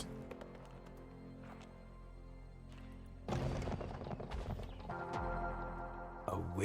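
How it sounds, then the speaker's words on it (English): Horse hooves clip-clopping in a video game, starting as faint distant steps, then turning loud and close as a rapid rhythmic ride, with a fresh burst of hoofbeats at the end. "Ride the damn horse."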